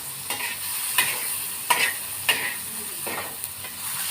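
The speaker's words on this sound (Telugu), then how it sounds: "కొంచెం ఆనియన్స్ అండ్ టమాటోస్ వేసి బాగా ఫ్రై అవ్వాలి" Onions and tomatoes fry in a pan for samosa chaat, giving a steady close sizzle with intermittent scraping stirs of a spoon.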